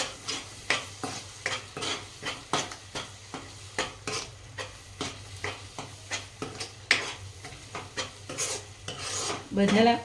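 Repeated scraping strokes of a spoon stirring spices with boiled chickpeas in a metal pan, a steady rhythmic rasp with faint sizzling beneath.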